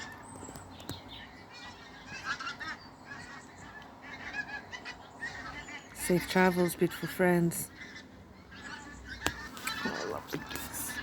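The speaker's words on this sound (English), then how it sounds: "Oh, I love the geese." Geese honk in a noisy burst near a cold-water tub outdoors, loud and repeated for a second or two, with someone talking before and after the calls and softer honks scattered through.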